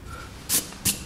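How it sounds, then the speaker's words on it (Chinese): An eraser rubs pencil lines off paper while a small insect drawing is cleaned up. Two brief, close scrubbing swishes come a short gap apart over a quiet background. "好，这个透视的地方都擦掉。"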